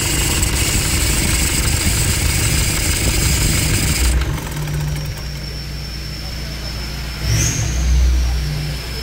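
A Toyota Hilux 2.5 engine runs loudly with a high, continuous belt squeal; the squeal cuts out as the engine drops to a lower idle, then briefly revs again.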